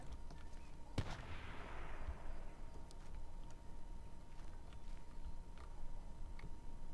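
Assault rifle fire in the video game H1Z1: one sharp, fairly distant shot with a trailing echo, followed by a few faint scattered cracks against a quiet background.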